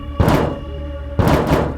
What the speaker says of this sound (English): we started to hear the banging from the trunk